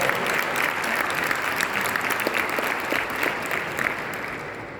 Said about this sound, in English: thanking our distinguished speakers and giving them a well-rounded applause